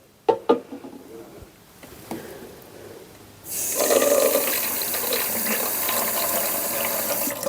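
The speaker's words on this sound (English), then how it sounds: "I'm just going to add some water." Water running into a make-up brush cleaner device, preceded by a few sharp plastic clicks and handling knocks, then a steady, loud splashing pour that continues to the end.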